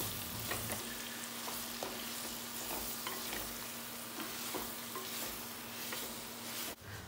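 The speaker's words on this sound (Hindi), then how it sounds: "बिल्कुल हाई फ्लेम पे इसे हम फ्राई करेंगे" Grated radish frying with a teaspoon of turmeric in a pan over high flame, Kashmiri style: a steady, dense sizzle with occasional spoon scrapes and stirs, close and continuous, with no voices.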